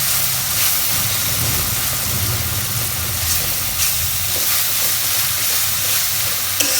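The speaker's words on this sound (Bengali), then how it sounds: "রসুন বাটা, আদা বাটা, জিরা বাটাটা একটু ভাজা হয়েছে" Garlic, ginger and cumin paste fries in a pan for a hilsa and bottle gourd curry, giving a steady, close broadband sizzle throughout with faint scraping ticks and no talking.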